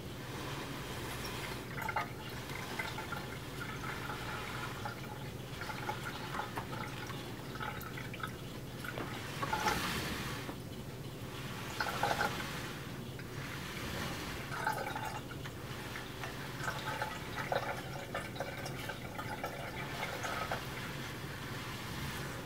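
Water trickles and drips steadily through a handcrafted ceramic cat drinking fountain with a mermaid spout, a faint close gurgle with occasional louder splashes over a soft constant flow.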